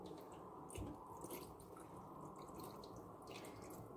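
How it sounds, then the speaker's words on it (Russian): Tap water runs into a jar of cucumbers being salted for pickling, a very faint, steady splashing and trickle with a few soft drips. "наливаем воды из-под крана, так, чтобы прям вот стекало"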